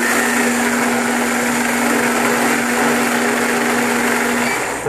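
A kitchen blender whirs steadily as it mixes eggs, butter, vanilla and honey for chocolate raspberry macaroons, a loud, continuous motor hum with a constant pitch that runs the whole stretch without a break.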